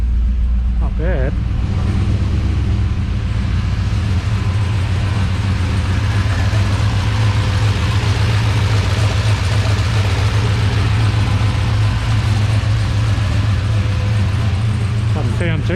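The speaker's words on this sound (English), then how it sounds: "Straight to idling at 800, so that's good." A turbocharged LS-swapped 4x4 Toyota Hilux idles steadily after a cold start, having sat unused for a couple of weeks, with a loud, continuous low engine rumble throughout and a person speaking briefly near the start.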